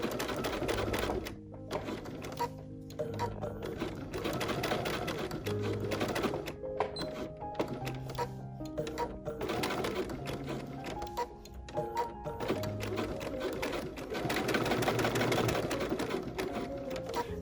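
Close, steady rattling of a sewing machine running a standard straight stitch, with short pauses and restarts as stitching follows a line on a pumpkin trivet.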